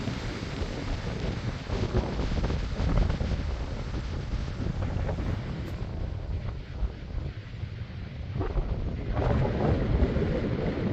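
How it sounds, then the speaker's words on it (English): Strong storm wind roars across a farm near ripening oat fields, a loud, continuous buffeting rush that batters the microphone, with gusts swelling and easing throughout. "We got a big storm rolling in. It's blowing like crazy."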